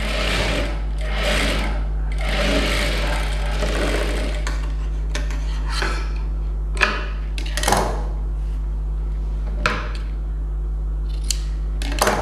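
A sewing machine runs in steady bursts while stitching a designer blouse with tulip sleeves, pausing now and then with small clicks and snips between runs. The whirring is loud and close, and no one speaks.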